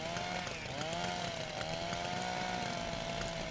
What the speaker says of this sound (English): well, here's the chainsaw